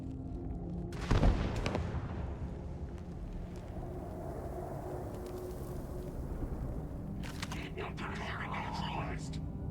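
A grenade detonates in the Starfield video game: one sharp, loud blast about a second in, then a rumbling tail that fades into steady background game ambience, with further crackling noise near the end.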